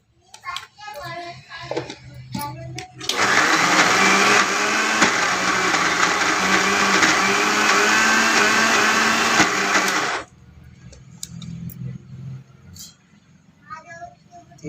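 A mixer grinder blends corn batter for makka garelu with a loud, even whirring roar of about seven seconds. Someone talks before the grinder starts and again after it stops.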